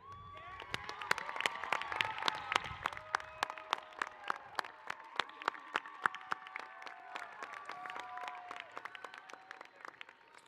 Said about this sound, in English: let's thank them with a round of applause for all the support they've given you